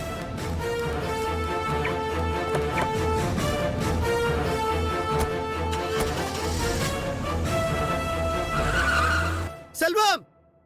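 A car engine runs loudly with tires skidding and squealing as it pulls away, with a sharp swelling screech just before the end.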